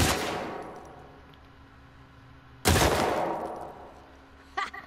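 Two loud gunshots in The Last of Us Part 2, each followed by a long ringing decay, about two and a half seconds apart, with a smaller clatter near the end and no speech.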